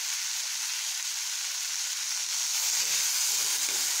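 Potatoes sizzle steadily in a pan with red chili powder and garam masala while being stirred. The frying is a continuous hiss at moderate loudness, close up, with no talking.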